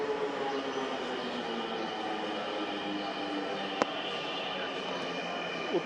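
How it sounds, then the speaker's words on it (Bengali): A Dhaka metro train arrives at platform number 1, a steady broad rumble of wheels and motors filling the station at constant loudness, with a short sharp click partway through. "তো এই যে ট্রেন চলে আসছে"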